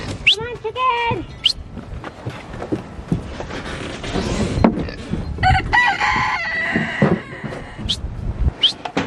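Chickens on a farm clucking with a rooster crowing loudly, several rising crow calls and bursts of clucks close by, mixed with creaks and shuffling while a person talks in between.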